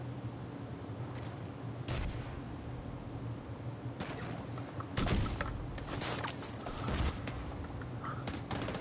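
Gunfire in The Division 2 as a player shoots toward a mortar: a few sharp shots and short bursts over a steady low background rumble, moderately loud with no talk.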